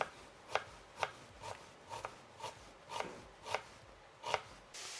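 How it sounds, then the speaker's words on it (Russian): Quiet, rhythmic knife strokes on a board as an onion is finely chopped, about ten crisp cuts spaced evenly at a steady pace. "Лук нужно мелко нарезать."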